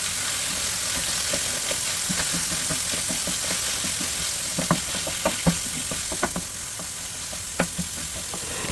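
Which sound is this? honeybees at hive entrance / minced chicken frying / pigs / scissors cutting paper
minced chicken frying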